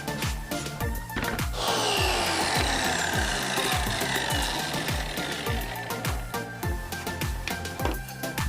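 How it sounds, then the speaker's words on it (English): Pine box pieces being sanded with a power tool, a continuous loud gritty buzzing with rhythmic thumps and knocks throughout. "Now we're just going to give it a quick sand and then put it all together."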